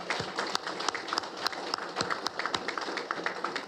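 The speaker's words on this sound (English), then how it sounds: "Let's give them all a round of applause for a great job" A modest round of clapping from a small audience at a police officer of the year award ceremony, individual claps audible in an uneven, moderately loud patter.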